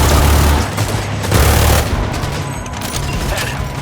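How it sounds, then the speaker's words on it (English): Heavy gunfire in Cyberpunk 2077 as a small army attacks, a loud, dense, continuous fusillade of overlapping shots with no pause across the whole stretch. "Keep firing, goddammit!"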